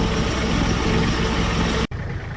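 A tractor engine strains steadily while pulling a large log on a farm, a loud, continuous broadband drone that cuts off sharply near the end before settling into a quieter running tone.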